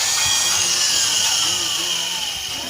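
A power drill bores into a broken bolt with a bit, giving a steady high-pitched grinding whine that holds for a few seconds and eases slightly at the end.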